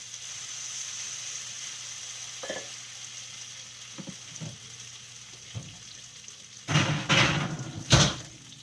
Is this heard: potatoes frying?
yes